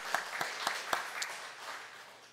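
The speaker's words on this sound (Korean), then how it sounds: "우리 하나님께 감사와 영광의 박수 올려드립니다" A church congregation claps in praise, a handful of distinct hand claps at first that soften into a faint, fading patter, with no talking over it.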